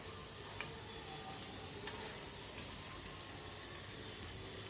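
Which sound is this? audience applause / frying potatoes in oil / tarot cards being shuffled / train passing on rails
frying potatoes in oil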